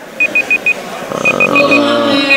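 A match timer alarm at a Pokémon regional tournament gives two quick bursts of four high beeps each, close and clear, with muffled sounds trailing after.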